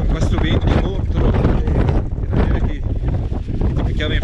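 Strong wind on an autumn mountain trail in the Antrona valley, roaring and buffeting the microphone in loud continuous gusts, with someone speaking over it.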